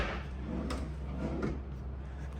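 A drawer in a hotel room slides open with a soft scrape and a couple of light knocks, close by over steady room hum.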